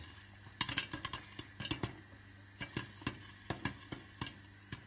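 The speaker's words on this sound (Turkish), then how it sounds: "Tenceremizde mısır patlatıyoruz." Popcorn kernels popping in a pot, sharp irregular pops scattered one after another over a faint background hiss, close by.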